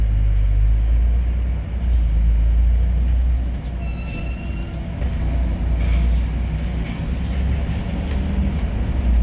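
A bus is heard from inside while it drives, with a loud, continuous low engine and road rumble throughout. A brief high whine appears near the middle, and no one speaks.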